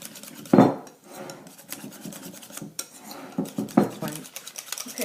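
A utensil clinks and scrapes against a bowl while thin beremeal galette batter is stirred smooth, with irregular nearby taps and rubbing strokes and no talk.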